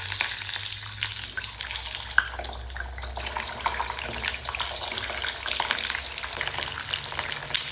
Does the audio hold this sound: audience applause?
no